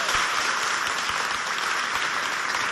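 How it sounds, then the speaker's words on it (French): A school audience at a lycée event applauds, a dense, even roar of many hands clapping at once, sustained and steady from start to finish with no voices over it. "Applaudissez bien fort pour vous, s'il vous plaît."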